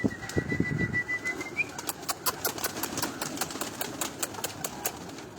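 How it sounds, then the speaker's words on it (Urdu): Released pigeons flapping their wings from a rooftop in Lahore, a run of sharp rhythmic wingbeat claps that grows steadier and fades slightly, with faint low rumble early on. "انہوں نے دوبارہ جو کبوتر اب چھوڑے ہیں"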